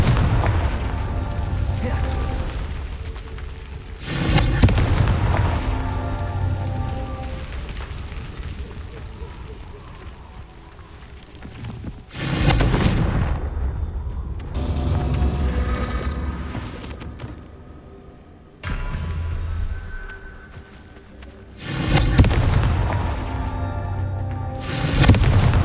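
Confringo fire spells blasting in the Hogwarts Legacy video game, three heavy booming explosions spaced several seconds apart, each with a rumbling, crackling tail, loud over a continuous game soundtrack.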